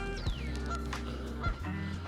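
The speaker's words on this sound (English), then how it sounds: "There's some geese over here." Geese honk by a lake outdoors, a few sharp nasal calls in quick succession standing out over steady low ambient rumble, fairly close and moderately loud with no talking.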